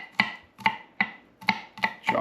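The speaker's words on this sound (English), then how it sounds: "So chopping our garlic." A kitchen knife chops smashed garlic cloves on a board, six crisp, close knocks at a steady, unhurried pace with short gaps between them and no talking.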